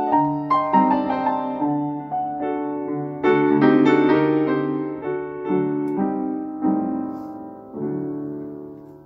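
Improvised harmonies in a Russian Orthodox style are played on an instrument as a slow run of rich, sustained chords. Each chord swells and then fades, close and moderately loud, with no voices.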